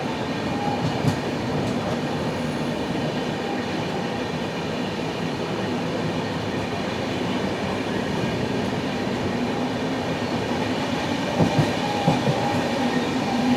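The 16315 Mysuru Thiruvananthapuram North Express is heard from inside a carriage, with a steady rumble of wheels on rails and faint rhythmic clacks, and no talking.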